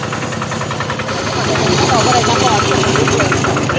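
A modified 4x4 farm tractor engine runs loud and close with a steady knocking idle pulse, growing a little louder partway through.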